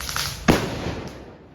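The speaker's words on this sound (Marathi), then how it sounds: "मी तर आमचा आता सुटली बॉम्ब लावतोय" A sutli bomb firecracker set off at a birthday celebration explodes with one sharp, loud bang, followed by a fading rumble and outdoor ambience.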